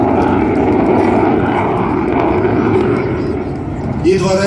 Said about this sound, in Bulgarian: Идва ред на фирмената фигура на самолет МиГ-29